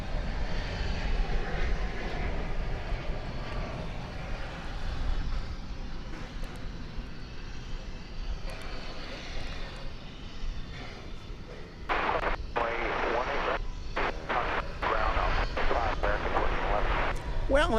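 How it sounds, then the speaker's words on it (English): A Frontier jet from San Francisco landing at DFW Airport on a hot August evening, a long sustained engine roar, loud and fairly close, with a harsher burst of rumble near touchdown and voices talking underneath. "that was a Frontier flight coming in from the city adjacent to the bay"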